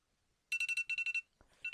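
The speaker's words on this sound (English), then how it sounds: "So that was the sound of my alarm going off." A phone alarm goes off loudly and close by, with a quick run of bright electronic beeps in a steady rhythm, a short pause, then the beeps starting again.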